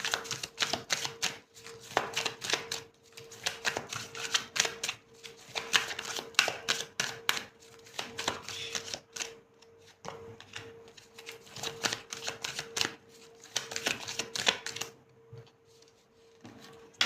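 Tarot cards are shuffled close by in rapid bursts of crisp riffling clicks, pausing briefly between rounds, with a faint steady hum underneath.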